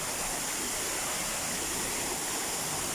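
Steady broadband rush of a waterfall pouring over bare rock at a secluded bathing spot, constant and close with no pauses or voices.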